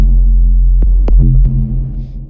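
A synth bass in Ableton wobbles under an LFO, a deep throbbing tone pulsing in volume, with several short sharp blips over the top, dry with no reverb.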